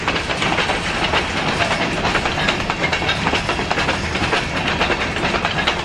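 A train rolls past close by, a loud steady roar of wheels with rhythmic clacking on the rails throughout.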